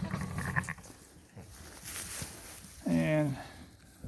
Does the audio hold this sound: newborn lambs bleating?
yes